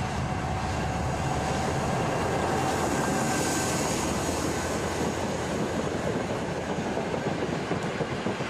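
A V65 diesel locomotive, number 4601, type 600D, rolls past close by as a continuous loud rumble with rail clatter throughout.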